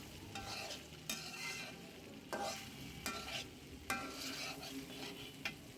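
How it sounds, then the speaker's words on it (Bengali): Cooked rice is stirred with spices in a frying pan, making rhythmic scraping strokes about once a second over a low, continuous sizzle. "অল্প অল্প ভাত দিয়ে নেড়ে চেড়ে মশলাটার সাথে ভালো করে মিশিয়ে"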